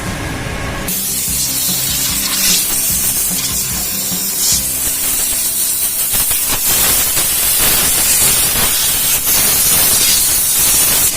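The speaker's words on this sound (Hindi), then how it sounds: "हवा का पाइप लाइए" Compressed air blasts from an air hose during a brake shoe change on a Wagon R car, a loud, continuous hiss that starts abruptly and roars on with slight surges, close up.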